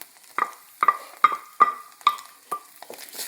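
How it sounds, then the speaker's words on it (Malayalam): A spoon scrapes and stirs fish roe with grated coconut in a pan, about seven distinct rhythmic strokes at roughly half-second intervals, close and fairly soft with faint sizzling between them. "അതുകൂടെ നന്നായിട്ടിട്ട് ഇളക്കി കൊടുക്കണം."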